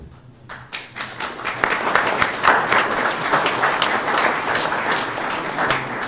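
Audience applause at a Kaysville city council meeting, a steady wash of many hands clapping that swells after a quiet start and holds loud and dense throughout.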